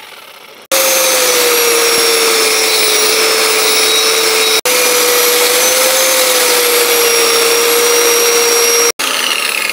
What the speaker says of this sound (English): You just wire brushed that with your angle grinder.